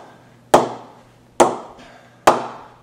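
Three sharp, ringing wooden pings from a ball striking an English willow cricket bat, evenly spaced and close, each decaying quickly into quiet.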